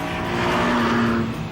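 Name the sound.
sports car with 2-litre VTEC engine revving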